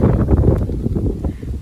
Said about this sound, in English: rather it is windy